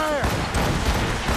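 Ship cannons firing in a naval battle in Assassin's Creed Rogue, a dense rumbling barrage of booms with shouted voices briefly over the start.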